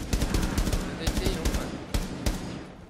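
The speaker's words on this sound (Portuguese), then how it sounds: "Meti tiro no Hulk ali, Duda." Rapid bursts of gunfire crack repeatedly from Rainbow Six Siege weapons, loud and close, with a few heavier isolated shots and faint voices underneath.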